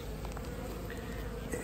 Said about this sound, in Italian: il favo accanto ha delle api